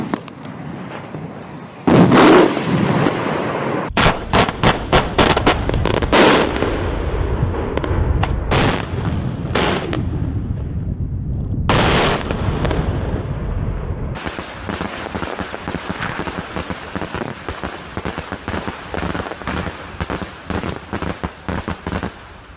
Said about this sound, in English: this is what daytime fireworks look like